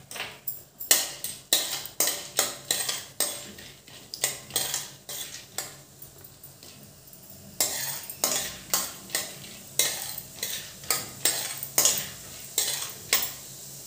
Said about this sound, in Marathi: आता ही डाळसुद्धा आपण थोडीशी तेलामधून काढून घेऊया.